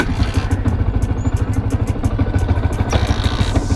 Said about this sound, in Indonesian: sekarang kita hidupkan motor dulu, guys ya.